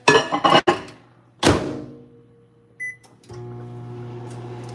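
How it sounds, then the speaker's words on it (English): Clunks and a door thump, then a steady low electric hum of a microwave oven heating molten lava cake batter, with a soft beep or clink midway. "So go ahead and put it back in the microwave."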